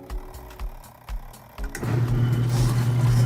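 A Giantex portable mini washing machine starting a wash cycle on the normal setting, a few soft knocks giving way to a steady low motor hum that grows and holds.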